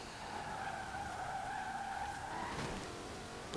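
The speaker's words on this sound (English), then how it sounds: "the superb engine noise and that supercharger whine" Jaguar F-Type R coupé in Forza Horizon 4, its engine and supercharger whine holding a steady high tone that drops late, with a brief tire-squeal or skid texture, fairly quiet and without talk.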